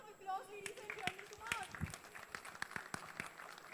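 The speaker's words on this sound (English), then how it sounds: "Can we have a huge round of applause, ladies and gentlemen?" Scattered audience clapping at a retail industry talk, a round of applause made of distinct claps mixed with voices speaking over it, fairly faint throughout.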